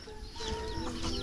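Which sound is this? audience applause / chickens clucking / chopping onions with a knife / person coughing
chickens clucking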